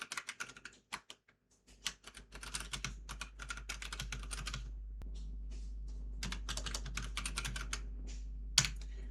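Someone types a ChatGPT prompt on a computer keyboard: close, rapid bursts of key clicks with short pauses, set over a steady low hum.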